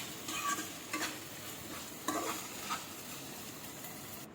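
A spoon stirs okra fry in a pan after oil is added, giving soft scraping strokes at irregular intervals over a steady, quiet sizzle, close by with no talking.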